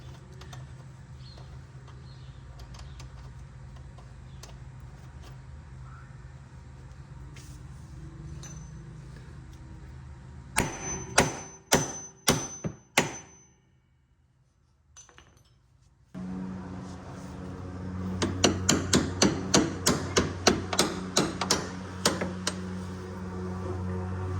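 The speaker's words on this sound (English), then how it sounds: "I'm going to put the nut back on this pinch bolt and then hammer it out" Sharp metallic hammer strikes ring out as a pinch bolt is hammered out of an Audi A6 Quattro suspension knuckle, a short cluster first and then about a dozen evenly spaced blows over a steady background hum.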